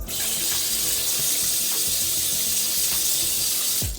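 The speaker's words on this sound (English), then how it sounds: "We're going to rinse it all off till it's clear and the water is clear." Cold tap water runs steadily into a kitchen sink while pork spare ribs are rinsed for a black bean spare rib dish, a continuous close splashing rush with no talk.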